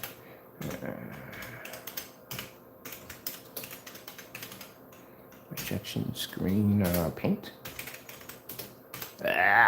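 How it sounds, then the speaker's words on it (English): Typing on a computer keyboard gives scattered bursts of key clicks, with a person talking over and between them. "Kind of hard to type on the keyboard up here, okay?"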